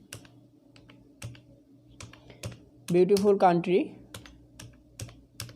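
Fingers type on a computer keyboard while HTML is being written, with steady close key clicks throughout and a brief spoken word in the middle over the typing.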